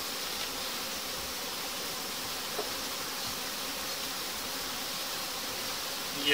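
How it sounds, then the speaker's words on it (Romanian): A honeybee swarm buzzes in a dense, steady hiss-like hum, many bees droning together continuously and fairly close, with no talking. "Iată, aici avem roiul."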